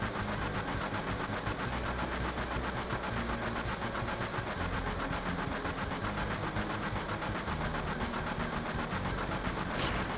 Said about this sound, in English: And so here goes the train minigame.